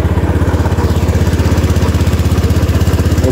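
A Honda Beat scooter engine runs after an oil change, a loud, close, rapid rhythmic putter at a steady idle throughout.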